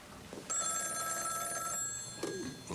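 A telephone bell rings in a single long trill, then starts again briefly near the end, clear and moderately close in a quiet room.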